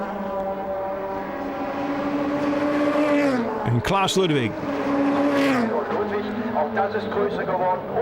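DTM touring race cars at the Norisring in 2000 scream past one after another, loud engine notes rising and dropping with a sharp Doppler sweep near the middle, beneath a commentator talking throughout.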